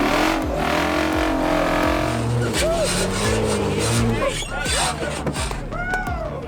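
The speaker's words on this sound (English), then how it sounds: "Giving it more gas. More gas. More gas." A Jeep engine revs hard as it climbs a rock pile on a trail ride, loud rising and falling roars close by, with someone talking over the engine noise.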